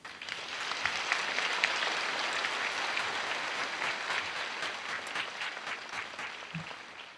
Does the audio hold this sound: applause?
yes